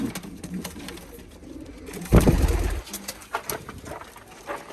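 Homing pigeons coo in low, soft bursts close by, with a louder throaty coo in the middle and faint rustling around them.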